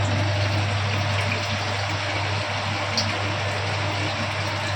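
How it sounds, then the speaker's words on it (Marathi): Water gushes steadily into a container with a constant rushing hiss and a low pump-like hum underneath, unbroken throughout. "पाणी पण भरून होईल माझं आता"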